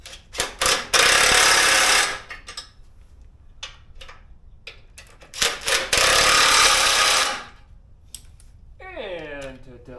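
An impact gun fitted with a nut driver tightens a winch cable bolt on a Jeep, two loud sustained bursts of rattling hammering close by, with short clicks and a voice between them.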